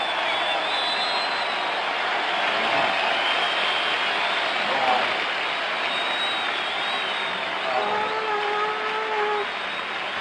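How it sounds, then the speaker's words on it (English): A baseball stadium crowd at Fenway Park during Game 6 of the 1975 World Series between the Reds and Red Sox roars in a dense, sustained wash of cheering, with a few whistles rising above it. "let's listen to the crowd"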